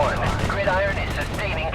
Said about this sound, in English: When artillery shells land across the valley, you actually get the sound delay.